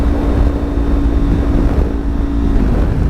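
Strong gusts of 20 mph-plus wind buffet the helmet microphone of a rider on a Kawasaki Ninja 400 motorcycle, making a loud, steady low roar with engine rumble underneath and no talking.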